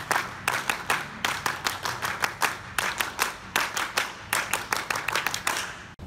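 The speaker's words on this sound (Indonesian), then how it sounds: "2 kali tepuk Pramuka." A group of Pramuka scouts, grade 5 and 6 Penggalang level, claps in a fixed rhythmic pattern, sharp close hand claps in repeating bursts, running through the pattern twice with a brief pause between.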